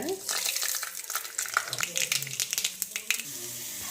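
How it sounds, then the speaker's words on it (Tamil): Crackling, spattering sizzle of seeds and lentils frying in hot oil, with scattered sharp pops over a steady hiss, close up. "இப்போ கடுகு உளுந்தம்பருப்பு போட்டுடலாங்க."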